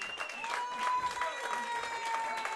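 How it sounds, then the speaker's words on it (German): Audience applause at a spring festival as a singer is called onto the stage, a dense steady patter of clapping mixed with a host's voice and some tonal background sound. "Ein kräftiger Applaus"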